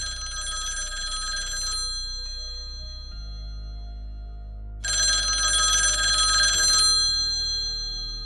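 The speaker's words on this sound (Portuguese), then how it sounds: "O toque familiar do telefone cortou a quietude da madrugada." An old-style telephone bell rings in the quiet of the early morning, two long, loud metallic ringing bursts separated by a pause, over a steady low hum, with no voices.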